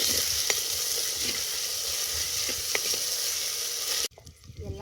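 Tomatoes frying with onions in oil for a mutton curry, a steady close sizzle with faint stirring taps, cutting off abruptly near the end.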